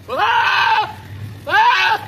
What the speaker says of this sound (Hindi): वो ऐसे रोता है बकरा, बकरे ऐसे रोते हैं